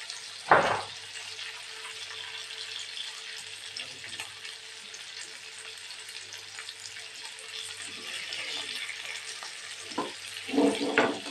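Curry leaves crackle and sizzle steadily in hot fish masala, a close, continuous frying hiss with a few louder pops and stirring clinks.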